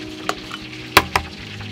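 Eggs fry in a pan with a low background sizzle while a utensil stirs them, giving three short, sharp scrapes and clacks close by.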